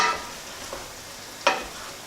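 Biryani ingredients stirred and coated in a pan with vinegar, a few soft scraping stirs with faint sizzling, one sharper clink of the utensil near the end, heard close and without talk.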